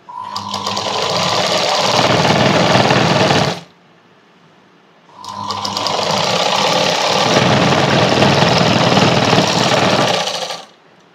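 An electric sewing machine stitches the puff sleeves of a blouse in two loud, steady bursts of rapid needle chatter. A silent pause of about a second and a half falls between the runs, and no one speaks.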